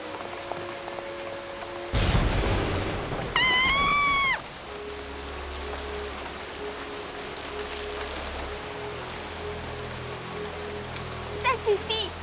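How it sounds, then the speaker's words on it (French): Heavy rain falls steadily in a French-dubbed My Little Pony cartoon scene. A sudden crash breaks in early, followed by a short rising voiced cry, then the soft, constant downpour continues with faint low rumbles and a brief squeal near the end. "Il pleut de plus en plus fort, Apple Bloom."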